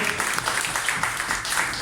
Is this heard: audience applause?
yes